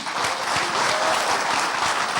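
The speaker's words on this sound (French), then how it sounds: "Applaudissez pour vous." A Congolese election campaign audience for presidential candidate Noel Tshiani bursts into loud, dense applause, a continuous close roar of clapping hands from start to finish.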